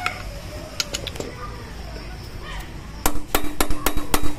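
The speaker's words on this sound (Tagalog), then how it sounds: "Gamit lang tayo ng impact drive." Impact driver working bolts loose on a Kawasaki HDIII motorcycle during an engine overhaul, heard as bursts of sharp rattling hammering near the end after quieter tapping and background noise.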